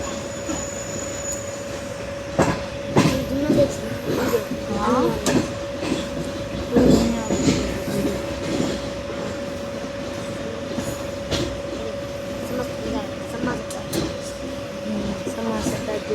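A Zakariya Express passenger train runs on the rails during a 45°C heatwave, with steady rolling rumble, clicking wheels and faint squeals heard from inside the carriage, and voices murmur in the background.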